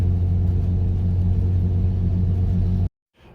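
The off-road vehicle Gus Gus rumbles with a steady, loud low engine drone while coasting off the throttle, then the sound cuts out abruptly near the end.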